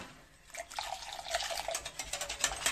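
Milk being poured slowly, little by little, into an egg batter while it is stirred to make a pastry cream for mille-feuille; a soft trickling and dripping liquid sound runs steadily and close, with no talk.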